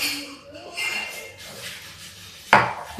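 Bitter gourd pieces tumble into a bowl and get mixed with salt and turmeric, soft scraping and shuffling capped by a sharp clink of utensil on the dish.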